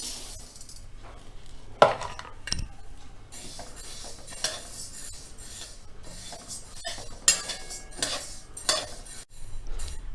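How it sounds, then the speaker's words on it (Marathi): Urad dal dry-roasting in a pan, stirred with a metal spoon: rattling grains and scraping strokes with a few sharp clanks, close and moderately loud, no voices. "आता उडदाची डाळ भाजून घ्यायची आहे"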